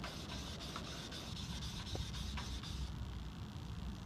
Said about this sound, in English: I need to turn it over and lap the back of the chisel as well